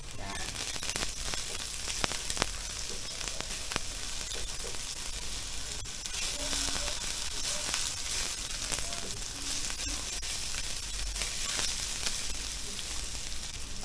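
Fish pieces sautéing with salt in a hot pan give a steady sizzle and crackle the whole way through, with scattered sharper pops and no talking.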